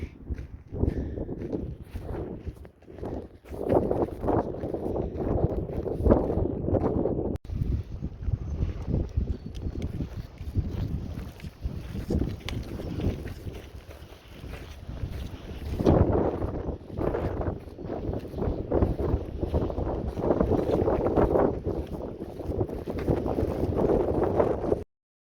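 Strong wind buffets the microphone on an open desert stretch of the Pacific Crest Trail near wind farms, a loud, continuous roar with gusty swells and no voices.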